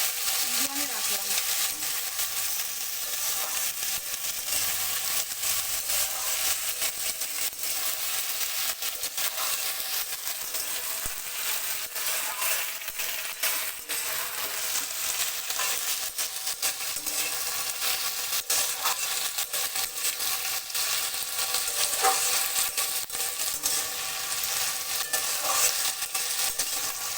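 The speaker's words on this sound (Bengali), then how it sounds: "তেল আমার গরম হয়ে গেছে, এবার আমি সিম" Flat beans (shim) fry in hot oil at medium heat, a steady sizzle with occasional stirring scrapes that runs throughout, while a person talks quietly over it.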